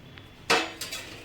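Sesame seeds are tipped into a hot kadhai on a gas stove, making a sharp metallic clatter followed by a second lighter rattle, close and brief.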